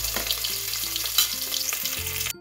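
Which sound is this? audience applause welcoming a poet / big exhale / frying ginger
frying ginger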